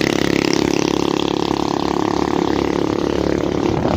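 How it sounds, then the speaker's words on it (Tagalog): A Suzuki Smash motorcycle engine labours steadily uphill on a mountain climb, a loud, continuous close-up drone with a slight rise in pitch toward the end. "Naahon tayo sa bundok. Yun mga idol, ang smooth ng Smash."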